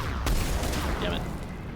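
Gunfire from the video game Mass Effect, a few sharp muffled shots near the start over a low rumbling game soundscape, with a player talking over it.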